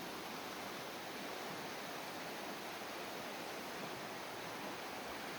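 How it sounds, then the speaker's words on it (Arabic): A river flows through the Finnish countryside, its steady broadband rush of water filling the scene evenly and continuously, close and unbroken, with no voices heard. "شوفوا النهر، هذا مكان يستاهل."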